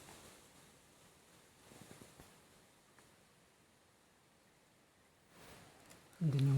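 Wind blows against the microphone in a low, rushing rumble, with gusts swelling now and then and a brief voice near the end.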